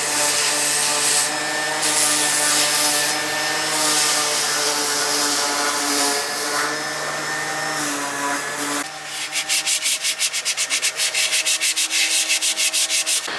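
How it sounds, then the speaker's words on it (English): Continuous abrasive sanding whirs against a catamaran's hull, steady and close, shifting partway through to a rapid, pulsing scrub. "sanding and just getting the last bits of the hull done"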